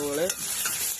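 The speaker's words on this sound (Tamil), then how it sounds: "நல்லா பொன்னிறத்துக்கு வர மட்டும் என்ன செய்யணும்னு சொன்னால் வதக்க போகிறோம்" Curry leaves, green chilli and onion sauté in a pan for a Jaffna-style stingray fish curry, with brief stirring scrapes and a soft sizzle, close and alone.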